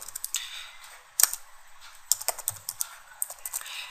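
Close, crisp keystrokes on a computer keyboard as a symbol is entered with Shift+6, a few scattered clicks, a short pause, then a quicker burst of light tapping with no talk.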